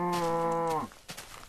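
A single drawn-out cow moo from Minecraft, loud and close, with a steady harmonic tone that bends downward and fades near the end, followed by faint clicks.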